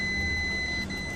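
A continuity tester emits a steady, unbroken electronic beep while probing the winding-to-body ground fault of a faulty AC outdoor unit fan motor, the tone holding evenly at moderate volume over a low hum.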